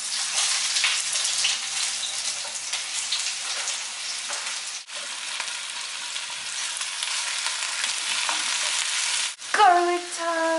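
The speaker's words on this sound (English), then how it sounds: "So your oil is nice and hot, we're going to put our onions in." Onions hitting hot oil burst into a loud, bright sizzle that holds steady, dipping briefly twice before a final clatter and tonal ring.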